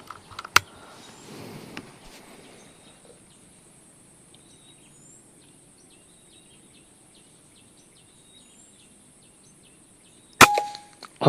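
A B-ZAD Klein VR-1 air rifle fires a single sharp, loud crack near the end, outdoors among steady crickets and insects, with a few faint clicks and soft handling sounds earlier.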